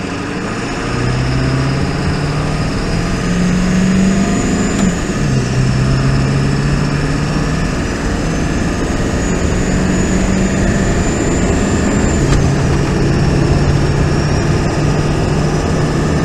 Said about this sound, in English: Alright, so we're gonna do a 0 to 60 run right now